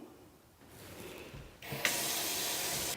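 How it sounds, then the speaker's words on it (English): Water gushes from opened valves on a house's plumbing during winterization, starting as a faint trickle and then surging into a loud, steady hissing flow that cuts off abruptly. "Open all the valves so that the water starts to run out of the pipes."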